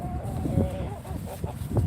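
Chickens cluck and squawk close by on a small farm, giving a loud, busy run of overlapping fowl calls with short honking notes throughout.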